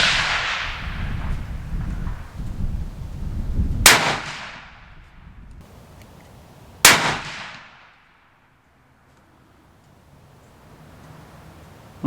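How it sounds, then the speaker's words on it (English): Thompson Center Compass II bolt-action rifle chambered in .338 Win Mag fired at a paper target on an outdoor range: two loud, sharp shots a few seconds apart, each with a ringing decay, over wind noise. "So now we'll be shooting that bottom right shoot and see style target."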